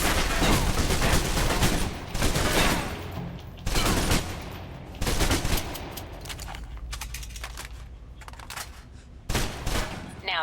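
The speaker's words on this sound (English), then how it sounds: "Now, let's move on to the submachine gun. Finally. Now let's empty the clip." Submachine gun in the Alpha Protocol video game emptying a full magazine in several rapid bursts of loud automatic fire, separated by brief pauses, each burst dense and rattling.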